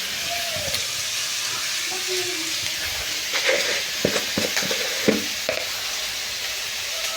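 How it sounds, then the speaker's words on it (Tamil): Cut tomatoes and onions sauté with a little salt in a pan for a home-style mushroom butter masala. A steady close-up sizzle is broken by scattered stirring scrapes and taps, with no talking. "நம்ம கட் பண்ணி வச்சுருக்க தக்காளியை வணக்கிக்கலாம்."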